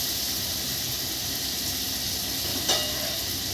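Butter sizzles steadily in a hot kadai, a continuous close hiss of frying with one brief clink partway through.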